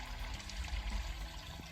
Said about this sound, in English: The water starts flowing.